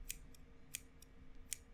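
Sharp metal scissors snip four or five times at uneven intervals, each crisp cut close and distinct against a quiet, faintly humming background.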